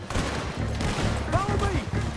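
Gunfire in Red Dead Redemption 2, a fusillade of several sharp shots scattered over a rumbling background while voices shout.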